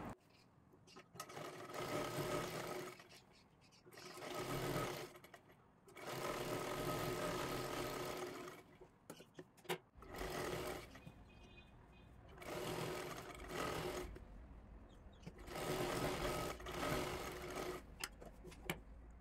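A sewing machine stitches a blouse lining in several loud, close, steady runs of rapid whirring, each lasting a few seconds and separated by short pauses.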